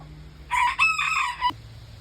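A rooster crows once loudly and close by, a strained call of about a second that breaks off sharply, with faint clucking noise around it and quiet background before and after.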